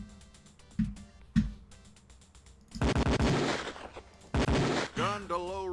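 Several distinct gunshots from a Beretta pistol ring out at a police firing range in Police Quest 4, with sharp single reports spaced apart before denser bursts near the end.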